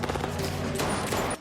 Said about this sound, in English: Hanna hears the gunshots